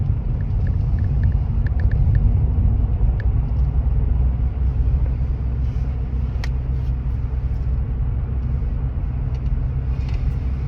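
A car drives along a road for about an hour-long trip, its engine and tyre rumble steady and loud throughout with faint ticks and small knocks from inside the cabin, no talking.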